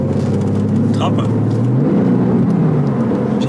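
A Porsche 911 Carrera 4S engine rises in pitch as the car accelerates, a steady mid-range drone climbing and then shifting with a gear change, heard from inside the car with a voice briefly over it.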